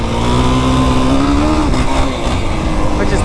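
Yamaha YFZ450R ATV engine on a desert ride roars loud and close, pitch climbing then dropping as revs rise and ease off, with wind rushing over it.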